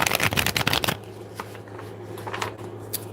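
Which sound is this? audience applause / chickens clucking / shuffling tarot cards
shuffling tarot cards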